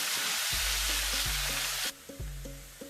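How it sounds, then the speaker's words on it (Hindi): Ginger garlic paste sautéing in hot oil gives a loud, steady broadband sizzle that drops noticeably partway through. Low tonal hum and soft clunks sit beneath it, and nobody speaks. "थोड़ा सा इसको हम सौते करेंगे ताकि अच्छी सी खुशबू निकल कर आ जाए।"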